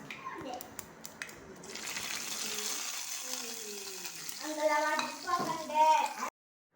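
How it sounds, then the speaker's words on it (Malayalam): Mustard seeds sizzle and crackle in hot oil with clinking stirring sounds, while a voice and other chatter come through over the frying. "ഇനി ഇതൊന്ന് കടുക് വറുത്തെടുക്കും വേണം"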